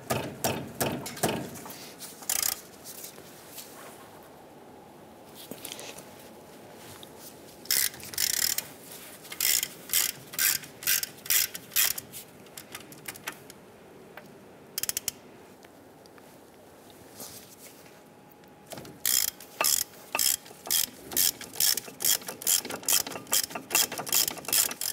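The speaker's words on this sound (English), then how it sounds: "Using our 15 millimeter socket, I'm gonna loosen and remove the bolt here" Ratchet wrench with a 15 mm socket loosening the brake caliper bracket bolts on a 1995-2001 Ford Explorer front brake, heard as several bursts of rapid, crisp clicking separated by quieter pauses, close and loud.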